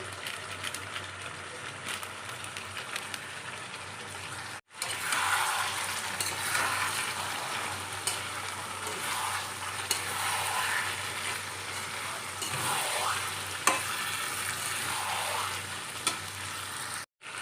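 Jackfruit and prawns with vegetables fry in a pan, giving a steady close sizzle with occasional stirring scrapes. The sizzle breaks off briefly near the start and again at the very end.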